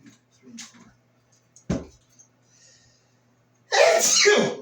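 A single loud, abrupt sneeze bursts out near the end, following quiet clicks and faint murmuring at a workbench where a Darlington power pack and transistors are being tested.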